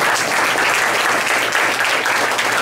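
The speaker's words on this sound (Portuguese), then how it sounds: "A salva de palmas para o Rei Jesus." An Assembleia de Deus congregation gives loud, steady applause for King Jesus at the close of a sermon, the clapping dense and continuous with no talking.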